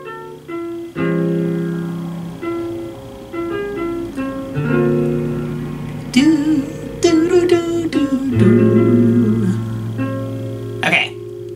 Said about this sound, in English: This is a 27-tone synthesizer